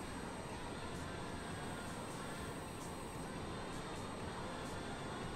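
Honda Jet climbing out of Tahoe in Microsoft Flight Simulator 2020, a steady, dense jet engine roar holding level and loud throughout, with no breaks or variation.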